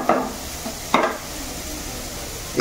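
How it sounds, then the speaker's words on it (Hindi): Onions sizzle and fry in a hot pan, a steady hiss broken by a couple of brief scraping stirs of a spoon, with no voices. "पियाज को छाड़देवा भल भाव गोल्डन हो जाऊ।"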